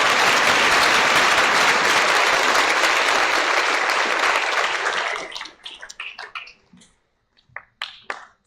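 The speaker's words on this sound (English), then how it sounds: "Let's give them a round of applause." Audience at a school alumni assembly applauds loudly for about five seconds, then the clapping thins to scattered individual claps that trail off into near silence.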